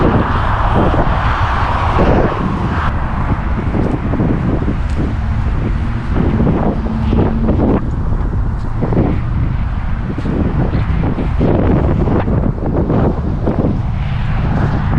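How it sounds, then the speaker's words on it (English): Steady, loud wind buffeting the microphone with a constant roar on a cold, windy day in Pacoima, Los Angeles, passing traffic rumbling underneath, and no voices. "cold, windy day in Los Angeles"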